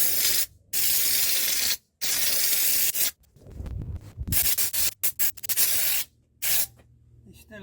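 Loud bursts of spray paint hiss onto a car panel, several long blasts separated by short pauses, close up, with some rubbing and mechanical handling noises between.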